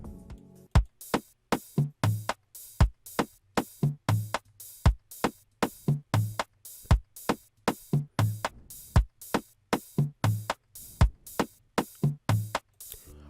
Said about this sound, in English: this is just like an amapiano feel with a little touch of Afrobeats